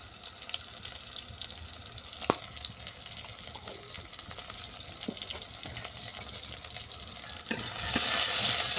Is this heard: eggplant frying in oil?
yes